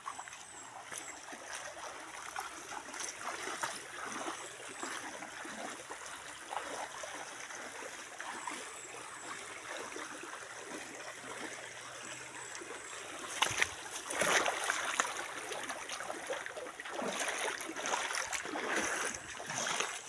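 A creek flowing steadily near a rural home, a soft continuous trickle and wash of water with a slightly busier splash toward the end, no voices.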